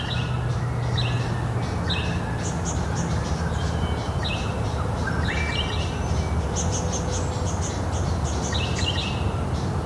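Tasmanian birds chirp and sing in repeated short calls beside an old abandoned bus, the song steady over a continuous low outdoor rumble.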